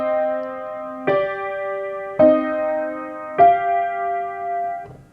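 Piano playing a passage from the third movement of Beethoven's Pathétique Sonata, with a grace note: three slow, evenly spaced struck chords, each ringing clearly before the next, heard alone.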